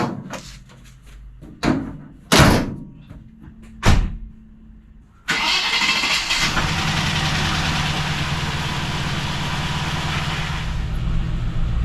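A Land Rover Discovery, just fitted with new front brakes, has a few loud clunks and thumps, then its engine cranks and catches, settling into a steady, close idle that holds to the end.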